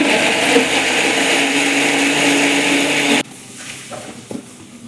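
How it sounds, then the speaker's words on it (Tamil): Mixie grinder blending tomatoes into paste: a loud, steady whirring roar runs for about three seconds, then cuts off abruptly, leaving quieter clinks and handling sounds. "நம்ம மிக்சியில் நல்லா பேஸ்ட் பண்ணி"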